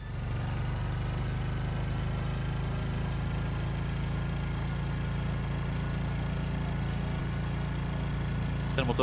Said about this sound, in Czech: Ten motor zní jako kdyby ho někdo nahrával